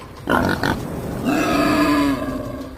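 A wild boar gives short, harsh grunts, then a longer, drawn-out rising squeal-like call. It is close and fairly loud, with no talking.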